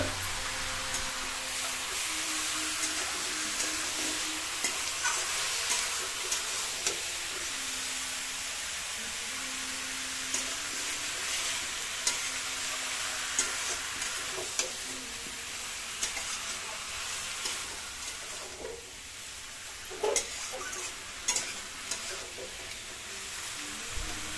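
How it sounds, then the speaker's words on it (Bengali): Chopped onions sautéing in a pan for a Bengali-style country chicken curry, tomatoes waiting to be added: a steady moderate sizzle and hiss with occasional stirring scrapes and clinks, no talking. "আমরা মোটামুটি এটা কষাতে থাকবো প্রায় তিন চার মিনিট ধরে যতক্ষণ এটা প্রায় লালচে না হয়ে যায়"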